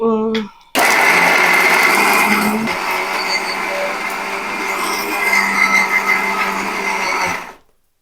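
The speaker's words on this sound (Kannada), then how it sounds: "ಇಲ್ಲ ಗ್ರೈಂಡ್ ಮಾಡ್ಕೊಬೇಕು. ಗ್ರೈಂಡರ್ ಇಲ್ಲ, ಮಿಕ್ಸಿ ಮಾಡ್ಕೊಂಡು." A mixer grinder whirs loudly and steadily while it blends coriander and mint leaves. After a brief start and stop, it runs for about seven seconds and then winds down, with voices talking over it.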